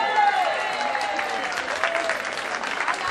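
Continuous audience clapping with crowd noise at a radio station's 12th anniversary event, moderately loud and sustained, with a faint voice-like tone drifting underneath.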